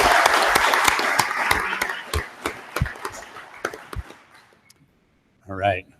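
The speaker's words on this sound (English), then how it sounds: "join me in giving him a round of applause for his service" An audience at a Colorado water board meeting claps, dense at first and then thinning into scattered, fading claps, followed by a short spoken voice.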